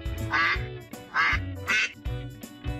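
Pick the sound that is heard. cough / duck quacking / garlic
duck quacking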